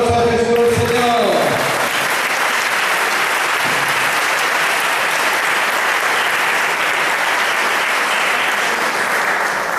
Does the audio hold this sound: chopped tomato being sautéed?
no